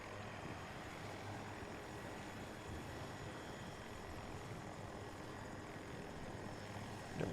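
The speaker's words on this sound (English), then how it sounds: "I'm gonna go ground, climb, and get out one of those attack helos." Attack helicopter in the video game Battlefield 2042, a faint, steady rotor and engine drone humming continuously in the background.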